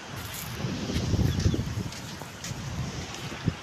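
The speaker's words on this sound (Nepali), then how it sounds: "कस्तो दामी हावा चलेको यहाँ।" Steady wind blowing across the microphone, a low rumbling gust that swells and fades, with no voices.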